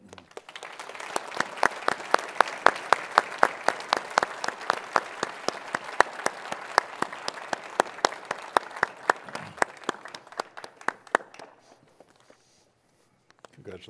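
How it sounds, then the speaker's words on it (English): Audience applause for the 2021 Almond Achievement Award recipient at an industry event, crisp rhythmic claps building to a sustained, fairly loud ovation for about eleven seconds, then quickly fading to near silence. "please join me in giving a huge congratulatory cheer for the 2021 recipient of the Almond Achievement Award"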